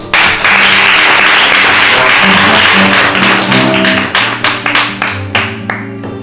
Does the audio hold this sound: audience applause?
yes